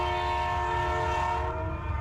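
A train horn sounds one sustained, droning blast over the deep rumble of rolling rail cars, as in a radio train-schedule jingle.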